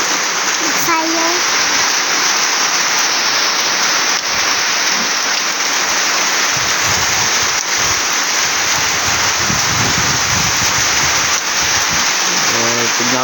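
A storm's heavy rain roars steadily with gusting wind throughout, a dense constant wash of noise, with a voice speaking faintly beneath it.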